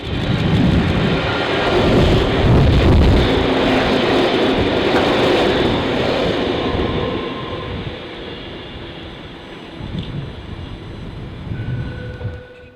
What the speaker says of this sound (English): Now on its way to Hurstville on 888D, K61 speeds through Alloa.